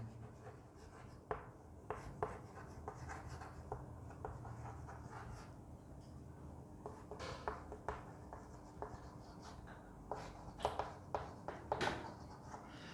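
Writing on a board during a Class 12 biology lecture, a steady series of short scratchy taps and strokes, close and moderately quiet, with no talking over it.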